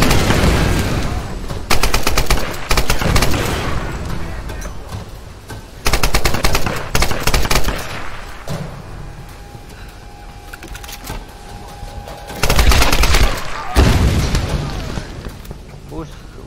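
Gunfire and grenade blasts in the Tomb Raider video game come in loud bursts of rapid shots and booming explosions, separated by quieter gaps, with a voice speaking in between.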